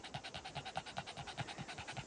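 A dog pants rapidly and evenly up close, a quick regular series of breathy huffs with nothing else heard.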